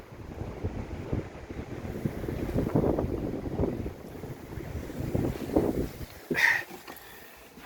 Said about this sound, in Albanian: ka shumë erë ndaj nuk ndëjta jashtë